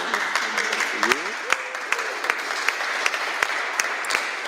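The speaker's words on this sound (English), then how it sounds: "a round of applause for our guests." A seated audience at a discussion session applauds its guests with a moderate, steady patter of clapping and a few sharper individual claps, while a person talks over it.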